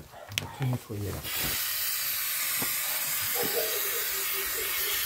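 Cleaning product is sprayed into pipes that hold trapped air, giving a loud, continuous hiss that starts after a few seconds of talk and holds steady to the end.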